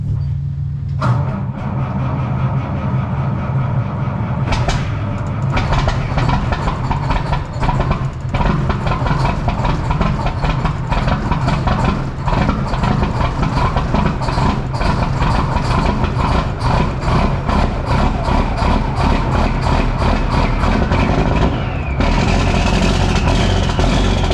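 A farm engine cold-starts and runs loud and close, with a steady rough rumble and repeated knocking pulses throughout.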